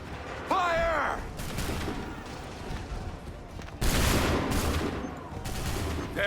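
A musket volley fired on command in Assassin's Creed III: a loud burst of massed gunfire around the half-second mark and another sharp volley near four seconds, set against continuous battlefield din with a shouted voice early on.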